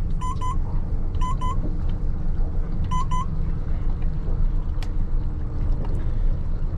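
Stabicraft 2050 Supercab boat idling at trolling speed on a Honda 150 outboard, a low steady engine rumble with water noise, punctuated early by three short electronic double beeps.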